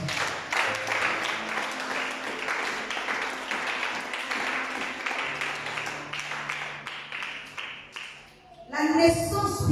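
A church congregation claps steadily in praise of the Lord, a sustained wash of applause with a rhythmic beat and some voices, then a sudden louder burst of voice at the end.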